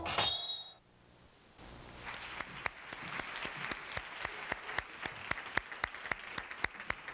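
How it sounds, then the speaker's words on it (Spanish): Faint, evenly spaced claps ring out in a steady rhythm after a brief burst of noise, sounding like a small audience or a lone clapper keeping time. "un aplauso para él"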